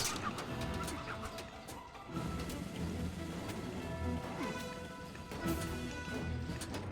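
Chickens cluck in the Age of Mythology video game, soft scattered bird calls over a steady busy game ambience, faint and continuous.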